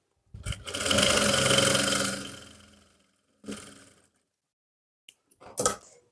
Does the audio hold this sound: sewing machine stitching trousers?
yes